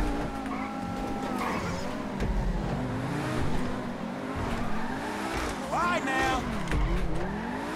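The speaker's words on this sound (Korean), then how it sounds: "깔끔한 드리프트." A car drifts in GTA V, engine revving and tires squealing in wavering pitched screeches as it slides, with a player talking over the action.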